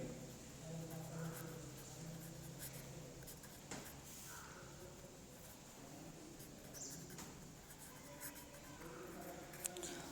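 Marker or chalk strokes on a board during a chemistry lecture on induced polarization: faint, scratchy, intermittent writing sounds over a low room hum, with no talking.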